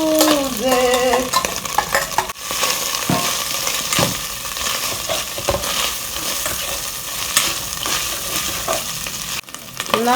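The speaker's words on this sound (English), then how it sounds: "because we're going to pan fry our meat." Beef pan-fries in oil with a loud, constant sizzle. A spoon scrapes through the meat in irregular strokes, and there are a few brief tonal squeaks early on. No voices can be heard.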